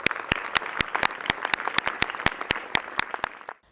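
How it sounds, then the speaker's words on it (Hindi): A small audience at a school panel discussion claps to welcome a panelist, sharp individual hand claps in a fairly regular rhythm over a softer patter, ending abruptly. "तो इनका बहुत ज़्यादा आप अभिनंदन कीजिए तालियों से"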